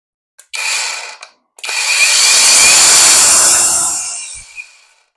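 A DELIXI cordless angle grinder gives a brief burst, cuts out, then spins up again and whines loudly for about three seconds before winding down, heard close with no talking.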